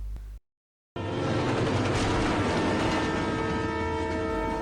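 Train in a film scene barrels past after a brief moment of silence, a loud, sustained roar of rail cars with a horn blaring over it, close and steady to the end.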